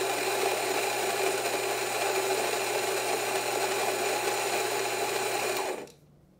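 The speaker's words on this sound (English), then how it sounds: "I'm gonna grind it again just to get whatever is inside out" A Rancilio Rocky grinder grinds espresso coffee at a fairly fine setting, giving a steady, loud motor whine and rattle that runs unbroken for nearly six seconds, then cuts off abruptly into silence.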